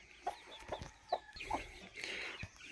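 Ten-day-old chicks clucking and peeping in a few short, soft calls spread over quiet background, with small taps and rustles between them.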